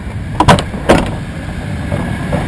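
The sliding door of a Eurocopter EC130 helicopter rolls open on its track and locks, giving two sharp, close mechanical clunks about half a second apart and then a softer rumble of movement.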